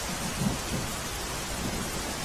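Heavy monsoon rain falling over Ahmedabad city, a continuous soft wash of downpour with faint low rumbles of thunder, distant and even throughout.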